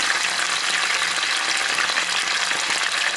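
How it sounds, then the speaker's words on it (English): Mustard seeds, methi (fenugreek) seeds and curry leaves sizzle steadily in hot oil for a tapioca and fish curry, a dense, continuous crackling hiss close by with no talk. "So here I've added oil, then mustard seed, now adding the methi seeds, curry leaves"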